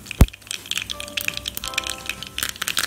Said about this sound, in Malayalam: അപ്പോൾ നമ്മുടെ കടുക് പൊട്ടി തുടങ്ങി.